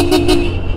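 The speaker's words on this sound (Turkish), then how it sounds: "Kornam nasıl?" A motorcycle horn gives one loud, close honk, a short double-pulsed toot lasting under a second.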